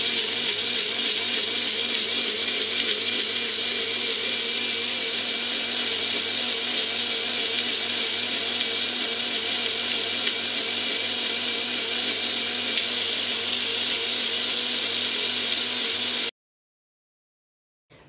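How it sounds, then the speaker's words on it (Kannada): An electric mixer-grinder whirs steadily and loudly, grinding masala spices into a fine paste for soya biryani, running continuously for about sixteen seconds before cutting off abruptly into silence. "ಈಗ ನಾನು ಮಸಾಲೆ ಏನಿದೆ ಅದನ್ನು ರುಬ್ಕೊತಾ ಇದ್ದೀನಿ. ಕಂಪ್ಲೀಟಾಗಿ ಇದು ಪೇಸ್ಟ್ ಆಗಬೇಕು, ಫೈನ್ ಪೇಸ್ಟ್ ಆಗಬೇಕು"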